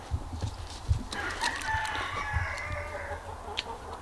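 A rooster crows in one long drawn-out call, fairly close, over low rumbling background noise and a few soft thumps.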